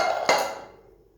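A spoon scrapes spice masala off a cooking pan in a short, coarse metallic scrape with one sharper knock, fading quickly, and no talking over it.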